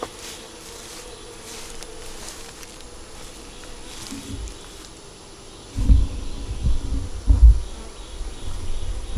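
Bees hum at a hive being checked after a month, a low, faint drone with a few louder rustling bumps close by in the second half.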